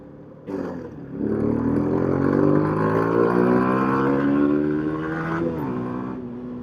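A Rieju RS3 125 motorcycle fitted with a whole new aftermarket exhaust revs up hard, its engine note climbing and holding loud and close before easing back near the end, with no talking.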